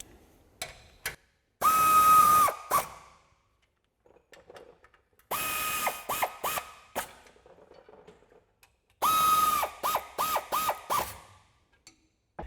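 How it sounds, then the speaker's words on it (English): A ratchet with a 12mm socket tightens suspension bolts on a 2022-2024 Toyota Tundra lift kit install, sounding as three bursts of rapid close clicking and whirring separated by quiet pauses and a few light taps. "we'll take our 12mm socket, tighten all of these down"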